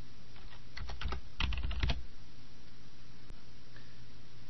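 Keys tapped on a computer keyboard while entering a number, a short quick burst of clicks lasting about a second, close and moderately loud over a quiet room hum, followed by a single later click.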